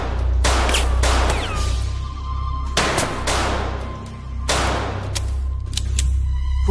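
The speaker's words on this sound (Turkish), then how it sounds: "Silah seslerini kesin duymuşlardır." Rapid bursts of gunfire crack and echo close by, several volleys in quick succession over a constant low rumble.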